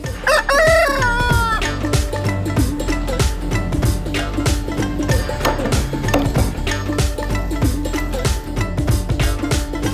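A native-breed rooster crows loudly up close while chickens cluck and squawk busily and continuously around it.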